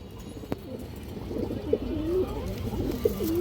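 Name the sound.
pigeon cooing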